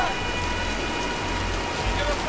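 Steady rain hisses in a stormy scene in the video game Tomb Raider, a constant wash with a low rumble beneath and no distinct thunderclap.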